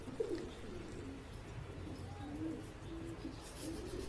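Pigeons coo softly in a loft, low gentle calls repeating at a moderate distance over a steady background hum.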